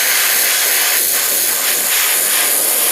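An airbrush spraying paint gives a loud, close, continuous hiss of air that holds steady for its whole length.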